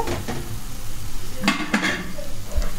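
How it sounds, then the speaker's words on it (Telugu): Rice being stirred into tomato rice in a pan, with a steady low sizzle and a few sharp scrapes and clanks of a spoon against the pan near the middle, all fairly close and loud. "అంతా కలిసేలాగా ఒకసారి కలుపుకుందాం"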